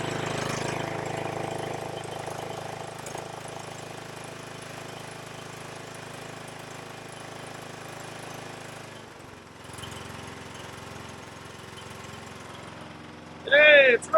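A riding lawn mower engine with a freshly repaired carburetor runs at a steady, fairly loud idle close by, dipping briefly midway before carrying on, with a voice speaking at the end.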